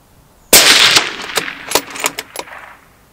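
A single sharp report from a Savage 110 Apex XP bolt-action rifle fired outdoors, loud and abrupt, followed by a fading tail and a few rattling echoes or mechanical clicks.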